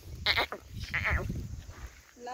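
A village goat bleats twice in quick succession, close and loud, with low voices and farmyard murmur underneath.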